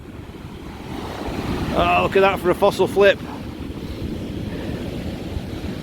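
Sea waves wash in on an Isle of Wight beach at Shepards Chine, a constant roar of surf with wind buffeting the microphone, while someone talks briefly partway through.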